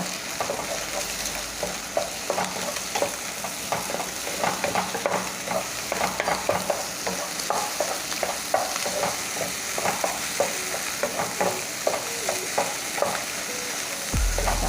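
Jaew bong chili paste being stir-fried with setting eggs in a pan: steady sizzling with repeated scraping stir strokes throughout, fairly close and even in level.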